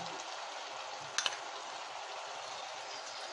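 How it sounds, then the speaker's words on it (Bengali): Mango pieces being stirred into a simmering rohu fish curry, giving a steady, soft bubbling sizzle with two quick utensil clinks partway through and no voices. "এইবার আমরা আমের কাতটা মিশিয়ে দেব"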